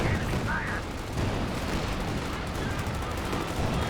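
Light artillery barrage in Company of Heroes 2, a steady, dense rumble of shell blasts and battlefield noise running throughout, with a commentator's voice talking over it.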